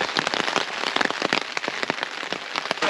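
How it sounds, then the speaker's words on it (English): Rain falling on leaves and plants in an orchid garden at Haleakala, dense close patter of drops with sharp irregular taps, heard alone and fairly loud. "Now it's going to shield us from the rain."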